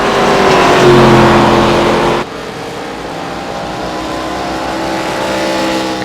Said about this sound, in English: Cars continue to navigate throughout the track